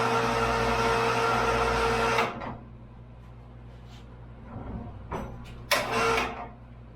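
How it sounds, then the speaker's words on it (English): A wood lathe carrying a large cottonwood blank hums with a steady, loud motor drone for about two seconds, then cuts off, followed by a few scattered knocks and shuffling sounds nearby. "Lathe fired up."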